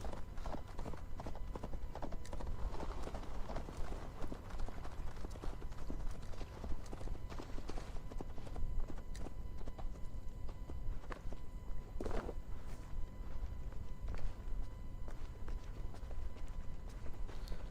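Steady clip-clop of horse hooves at a walking pace in Assassin's Creed Valhalla, continuous and fairly close, with rustling ambience and no talking.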